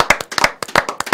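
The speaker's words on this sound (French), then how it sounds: "Monica qu'on va applaudir pour l'accueillir" Brisk clapping from an audience welcoming a comedy award winner onto a Cameroonian talk show set: about a dozen sharp, close claps in quick, uneven succession, with no voices.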